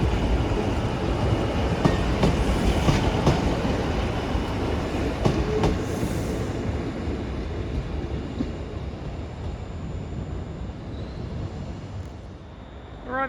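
A Scotrail service from Stranraer, unit 156435, rolls into the terminus at Glasgow Central, a loud, close rumble of wheels and engine with steady clickety-clack that slowly eases as it comes in, with faint squeals near the end.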